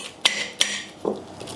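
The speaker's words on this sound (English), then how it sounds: "use a potato masher to mash it up" A ripe banana mashed with a potato masher in a large bowl: two sharp knocks of the masher against the bowl followed by a softer squashing thud, close and isolated, with no talking.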